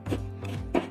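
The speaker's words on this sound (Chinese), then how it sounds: "生姜切成末。" A knife minces fresh ginger on a cutting board, three close, crisp chopping strikes within a second, with no speech.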